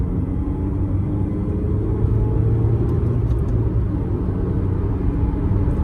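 A 25-year-old Mercedes-Benz W202 sedan accelerating on the road, giving a steady, fairly loud low engine rumble with constant road noise throughout and no talking.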